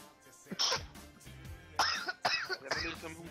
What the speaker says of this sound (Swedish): Det var du som hostar eller?